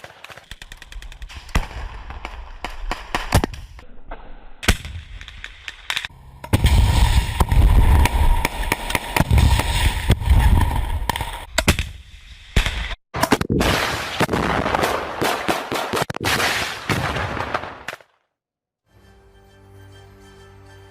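Gunfire in a clash between Hamas fighters and Israeli soldiers, with bursts of automatic fire and single loud shots crackling irregularly, some heavy booming stretches, then a quieter tail after a brief cutout.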